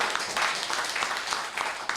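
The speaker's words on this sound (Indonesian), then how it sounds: "Yang sehat saja berikan tepuk tangan sekali lagi buat Tuhan" Congregation clapping in unison in a church service hall, a steady dense patter of many hands that stays fairly even across the stretch.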